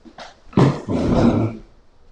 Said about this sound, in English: The dogs were getting into some mischief over here.